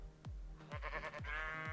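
Sheep in the Minecraft video game bleat four times in a row, each a short wavering call at a steady pace, clear and close with no talk over them.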